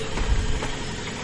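A faint, low engine rumble of an approaching vehicle in the video game Medal of Honor: Pacific Assault, steady and distant, with no speech over it.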